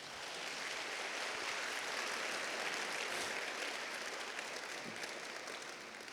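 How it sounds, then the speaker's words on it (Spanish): A congregation applauds its teacher, a dense, even wash of many hands clapping that holds steady and fairly loud for several seconds with no talking over it. "Un aplauso para nuestro maestro."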